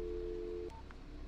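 Telephone dialing tones in the video game Driver San Francisco: a long steady tone cut off by a couple of brief touch-tone beeps, faint and clean with no talk.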